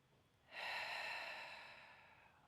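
A single slow breath, exhaled during a Pilates mat exercise, close and soft, rising quickly and fading over about two seconds with no talk.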